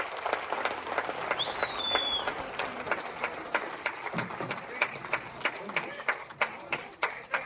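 Steady audience applause at a Kannada stage tribute, a dense patter of many hands that grows more distinct toward the end, with a voice briefly heard over it near the start.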